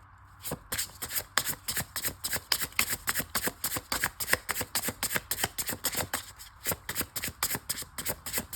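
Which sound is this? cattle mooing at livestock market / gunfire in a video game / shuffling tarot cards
shuffling tarot cards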